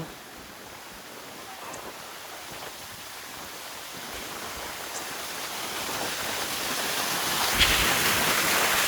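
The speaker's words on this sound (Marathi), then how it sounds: "पाण्याचा फ्लो बघा." Steady broadband rush of a waterfall on a monsoon trek to Visapur Fort, a continuous close roar that swells slightly louder toward the end, with a faint click or two and no talking.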